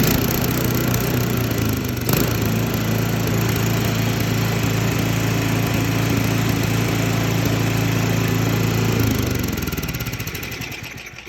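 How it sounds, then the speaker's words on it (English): A snow blower's small gas engine idles steadily with an even, rumbling drone, close by, then winds down and fades near the end. "Looks like we don't have a surging issue anymore. No idling up and down or low speed."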